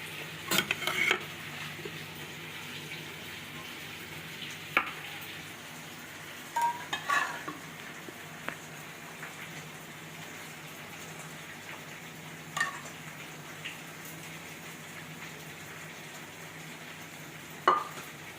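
A fried garlic mixture (taqliya) is stirred in a pan for a fat-and-bread dish, with a spoon scraping and clinking against the metal in sparse, scattered taps over a low, steady background hiss.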